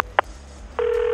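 Mobile phone keypad tones as a call is placed, one short beep followed by a steady ringback tone rising and holding, heard close and clear with no talking.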